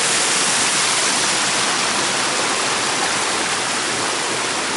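Water runs over a rocky creek bed in the bush, making a steady, full rushing sound that stays constant from start to finish with no voices.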